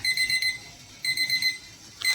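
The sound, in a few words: kitchen timer alarm ringing after 20 minutes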